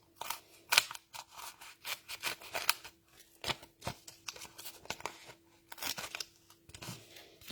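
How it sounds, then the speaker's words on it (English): Repeated crisp snips of scissors trimming stiff cardstock, in irregular bursts close to the mic, with paper rustling between cuts. "I'm just going to trim it with my scissors"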